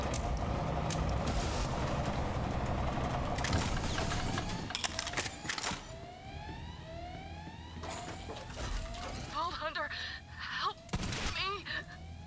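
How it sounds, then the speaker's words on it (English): Rapid SMG gunfire from a Maliwan weapon in a Borderlands-style shooter, dense bursts over loud game effects and chaotic combat noise, with sharp repeated shots and whining sweeps continuing throughout. "I'll try out this Maliwan SMG"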